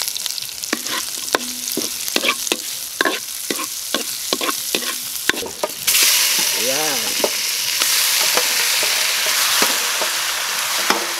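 Ginger, onion and bay leaf are sautéed in a hot pan. A spatula clinks and scrapes in a quick uneven rhythm until a loud, dense sizzle surges midway as the ingredients are poured in, then holds steady.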